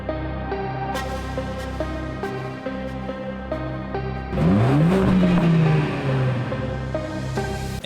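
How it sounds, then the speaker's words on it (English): A Mercedes-Benz CLA45 AMG idles with a deep burbling exhaust, then revs hard, the pitch climbing and falling back as the exhaust crackles loudly. "pipes in real sound from the engine and exhaust"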